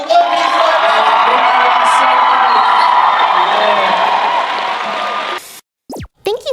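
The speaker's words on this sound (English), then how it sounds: "I want to have a big round of applause for the One Piece" Loud, continuous crowd applause and cheering from an audience at a One Piece live-action panel at Weebcon 2024, sustained for about five seconds before cutting off abruptly, followed by brief silence and a few short sounds.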